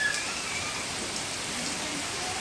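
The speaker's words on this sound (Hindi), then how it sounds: "बारिश आ गई, बहुत तेज आ रही है भाई, कैमरा वैमरा भीग रहा है।" Heavy rain pours down steadily on an outdoor street near a Hanuman temple in Yamuna Bazaar, Delhi, a dense, continuous hiss of drops on surfaces, loud and close with no voices.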